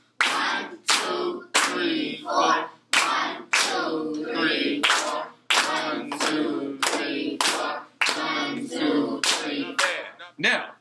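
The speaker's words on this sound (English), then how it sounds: "Get ready to clap" A class claps hands together in a steady counted rhythm, sharp loud claps in regular groups with brief pauses between phrases, close and clear.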